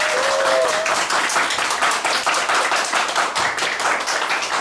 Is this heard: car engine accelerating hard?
no